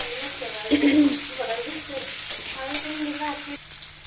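Green chillies hit hot oil in a pan and crackle into a steady, close sizzle, with brief stirring scrapes breaking through now and then; no voices.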